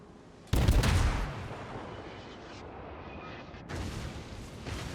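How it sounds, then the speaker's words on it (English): Heavy naval gun salvo from the cruiser Atlanta in World of Warships, a sudden loud blast at the start that rumbles and decays into a sustained roar, with a second burst of firing rising near the end. "So I keep shelling him and just moving away."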